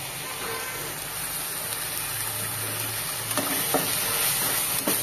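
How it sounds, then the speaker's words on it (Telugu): Masala frying with tomato for chicken gongura, stirred around the pan, a constant dense sizzle with occasional sharp scrapes and taps of the spoon near the end. "చుట్టూ కలుపుతూ బాగా వేయించుకోవాలి."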